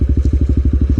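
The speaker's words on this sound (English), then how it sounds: "The metallic rattling of my heat shield." A motorcycle engine with a rattling heat shield, a rapid, even pulse of loud, close thumping clatter repeating about a dozen times in one second, with no talk.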